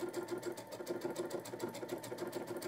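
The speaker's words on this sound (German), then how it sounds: "Die Geräusche sind ein bisschen ungewöhnlich, weil eben die Nadel immer für einen Moment oben gehalten wird, damit das seitlich versetzt werden kann" Sewing machine with sideways fabric transport stitching steadily, a fast regular mechanical patter with brief rhythmic pauses as the needle holds up while the fabric shifts sideways.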